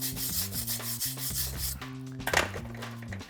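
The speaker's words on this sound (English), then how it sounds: "I'm giving them a little once over with a wire brush and then dusting them off with a hand brush" A stiff wire brush scrubs across bricks to clean off debris, giving repeated short rasping strokes in a quick back-and-forth rhythm, close and fairly quiet.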